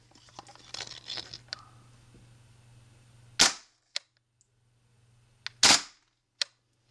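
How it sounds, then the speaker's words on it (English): KWA KRISS Vector airsoft gun firing two-shot bursts, each a pair of sharp close cracks, with quiet gaps and faint handling clicks between them. "Now we'll go ahead and give it a two-shot burst."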